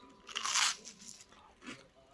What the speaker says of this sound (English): Crunchy, buttery bread.